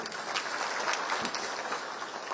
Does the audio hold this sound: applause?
yes